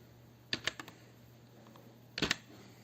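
Computer keyboard typed on while copying and pasting a Logo program, heard as two quiet, quick bursts of clicking keystrokes separated by a short pause, with no talking.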